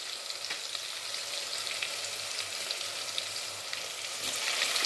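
Tomatoes frying in a pan for donda kaya (ivy gourd) biryani give a steady, close sizzle with faint stirring scrapes, continuous and even throughout and growing slightly louder near the end, with no talking.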